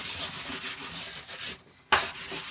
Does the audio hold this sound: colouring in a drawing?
yes